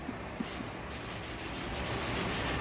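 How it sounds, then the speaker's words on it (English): Hank sands a metal truck bed floor in preparation for applying 3M 8115 panel bond, a continuous, fairly loud abrasive rubbing hiss that runs steadily throughout, with no talking. "So right now Hank is sanding the areas where we're going to be applying"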